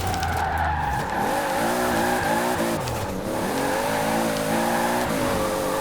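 A Toyota Supra drifts at about 150 mph in the racing game Forza Horizon 4, its engine howling in steady, shifting tones while tires squeal continuously throughout, loud and close with no talk.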